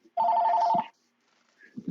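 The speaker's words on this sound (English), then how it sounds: "Phone was ringing." A telephone rings once with a loud, bright electronic trill that lasts about two-thirds of a second and then stops, followed by quiet and some faint movement.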